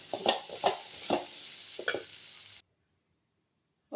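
A spoon scrapes and taps in a pan while chow chow kootu with coconut is stirred, four or five distinct strokes in a steady rhythm, close and fairly soft, before the sound cuts to silence.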